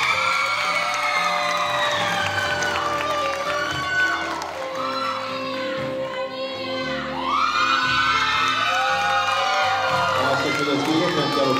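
An audience at a provincial beauty pageant cheers, whoops and shouts in loud continuous waves, with children's voices among the crowd and a brief lull midway before the cheering builds again.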